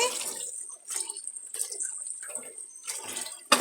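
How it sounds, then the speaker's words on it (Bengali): New potatoes are washed by hand in water, giving soft repeated sloshes and splashes in short uneven bursts, quiet and close. "আলুটা আলুটা ধুয়ে নিতেছি।"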